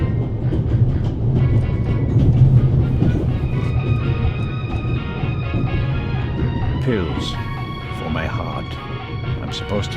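Train rolling on rails in The Raven - Legacy of a Master Thief, a steady low rumble of carriages with metallic clatter and a brief screech, heard alone at moderate loudness.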